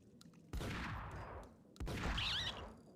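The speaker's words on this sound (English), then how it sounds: "Sorry, I shouldn't be shooting rats like that." Gunshots from shooting rats in the video game Max Payne: two loud, close blasts about a second apart, each fading into a long reverberant tail, with no speech.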